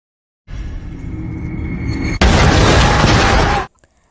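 A grenade explosion in an action monster film, a loud rumbling blast that swells over a sustained roar, hits a sharper, heavier burst, then cuts off abruptly.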